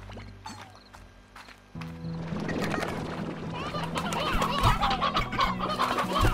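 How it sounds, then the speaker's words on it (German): Many chickens in a video game cluck busily and continuously, a dense flock chatter over a low steady hum, growing fuller after the first couple of seconds. "Ganz viele Hühner."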